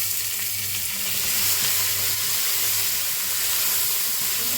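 Soaked lentils and a small amount of onion frying in a pot while being stirred, with a loud, continuous sizzle and steam hiss and a faint low hum underneath, no voices.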